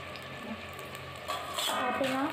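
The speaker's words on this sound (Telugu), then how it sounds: "కొంచెం కర్రీ మొత్తం వేసుకొని దీన్ని బాగా వేయించుకుందామండి." Chicken curry sizzling in oil in a pot for chicken dum biryani, a close, continuous frying hiss that grows louder and busier toward the end as it is stirred.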